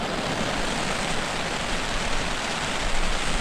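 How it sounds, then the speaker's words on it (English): Heavy, relentless rain pours down at a wilderness campsite on the Slates as a dense, even hiss that stays steady and loud throughout, with no voices. "This rain's relentless."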